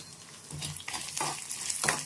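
Tamarind sizzling and frying in a pan for neem leaf chutney, with intermittent stirring scrapes over a steady close crackle.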